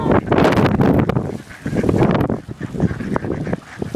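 Geese honking repeatedly in a noisy, overlapping flock, loud and close, outdoors on a windy day where birds are being fed.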